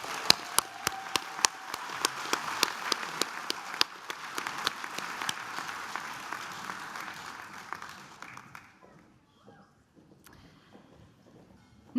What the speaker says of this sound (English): Final round of applause for Diploma in Mental Health.